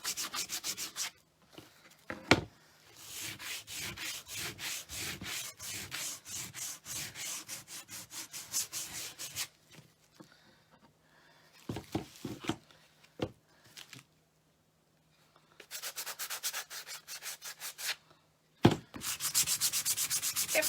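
Hand sanding rough primitive wooden cat figures: long runs of rapid back-and-forth scratchy strokes on wood, close and steady, broken by short pauses and a few sharp knocks.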